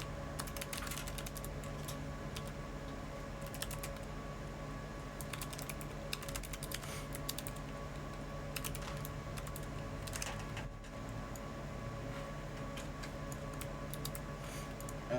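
A password is tapped out on a computer keyboard as steady, quiet clicking keystrokes in short bursts, close up over a constant low background hum.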